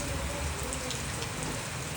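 Steady rain falls in a village, a dense continuous patter of drops on surfaces, even and unbroken throughout with no voices.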